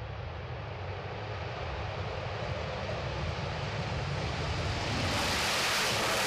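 US Air Force Thunderbirds jets taking off in a formation of four at an air force centenary airshow in Izmir: a continuous, loud, broad jet roar that swells slightly toward the end, heard from a distance with wind noise and no talking.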